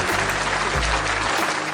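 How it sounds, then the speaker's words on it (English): A short burst of audience clapping for a child contestant on a quiz show, dense and even for under two seconds, over a low musical hum. "Vihaan, a big round of applause to the Vihaan."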